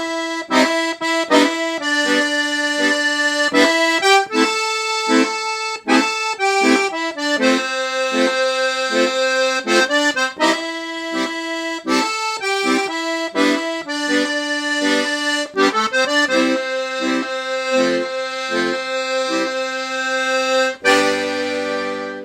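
A piano accordion plays a full rock-and-roll zydeco melody from the top, keeping up a bright, reedy run of rhythmic notes for about twenty seconds. No voice is heard, and the tune ends on a held chord with low bass.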